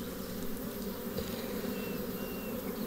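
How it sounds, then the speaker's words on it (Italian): Honeybees buzz in an open hive during hobby queen rearing, a dense continuous drone of many bees, close and steady throughout with no voices. "poi vedete quante api ci sono"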